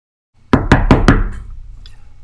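Four quick, loud knocks on a door at a family home, evenly spaced and close, followed by a brief fading resonance.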